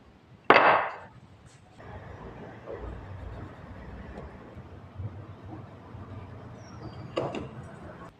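Two sharp mallet blows drive a chisel into wood while mortises are chopped for a wooden frame saw, one strike near the start and another near the end, with a low steady background between them.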